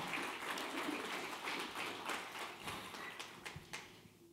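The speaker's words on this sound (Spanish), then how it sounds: "Dele un aplauso al Señor." A church congregation applauds in praise during a Spanish-language Easter sermon, a dense run of clapping that breaks into rhythmic bursts toward the end.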